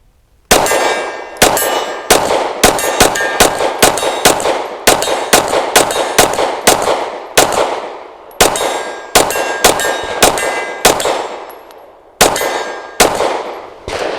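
Rapid strings of loud, sharp gunshots from a Springfield Armory HS Produkt Echelon pistol firing soft 115 grain rounds, several fast bursts with brief pauses between magazines' worth of shots, close and with no talking.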